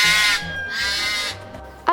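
Harsh, raspy bird calls overlap loudly and continuously in the aviary at Gdańsk Zoo, with a low grunting undertone, ending in a short sharp cry.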